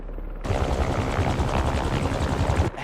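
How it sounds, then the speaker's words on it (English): Helicopter rotor blades thump in Marvel's Spider-Man 2 video game, a loud, rapid pulsing chop that starts abruptly and holds steady for a couple of seconds before cutting off, with no voices. "Something like... a helicopter's blades."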